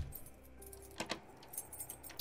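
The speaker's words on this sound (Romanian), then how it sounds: "Picked up a key." Keys jangle as they are picked up in a Michael Myers horror video game, a few quiet metallic clinks spaced over a couple of seconds above a low, faint ambient background.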